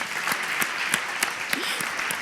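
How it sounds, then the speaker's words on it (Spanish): Audience applause for Andrés Llena at an interview event, a short burst of steady clapping with a few sharper individual claps standing out. "un aplauso para Andrés Llena"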